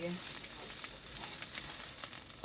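Sweet mustard greens stir-fry in a hot pan with a soft, steady sizzle and crackle. Occasional scraping stirs are heard, fairly quiet and close.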